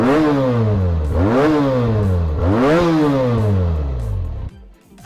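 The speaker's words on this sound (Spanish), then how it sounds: "Pues es una Benelli TNT 300" A Benelli TNT 300 inline two-cylinder motorcycle engine revs up hard three times in a row, each rise climbing sharply and dropping back, loud and close, before cutting off abruptly.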